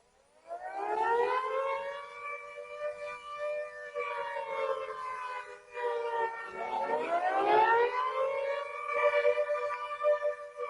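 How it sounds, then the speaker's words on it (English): Air raid siren signal wailing steadily, rising and falling in long sweeping tones, distant and somewhat faint, with no talk over it. "It is an air raid signal."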